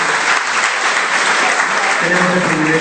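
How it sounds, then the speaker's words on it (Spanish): A church congregation applauding, loud and close, a dense sustained clapping that fills the whole moment, with a faint voice starting near the end. "Yo quisiera que le demos un fuerte aplauso a ellos."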